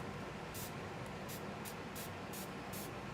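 Short bursts of a spray bottle hiss in a quick series of about seven puffs along the edge of a craft background, faint and close, with no talking.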